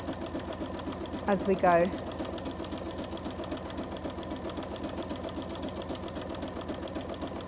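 A sewing machine stitches a fabric tablet cover along its edge, the motor running as a steady close whir throughout, with a brief louder burst near the start and a person talking over it.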